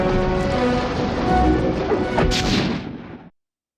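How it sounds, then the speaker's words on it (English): A bomb explodes in the video game Sly 2, a loud, dense, sustained crash and roar with a brighter burst partway through before it cuts off abruptly. "She's about to explode!"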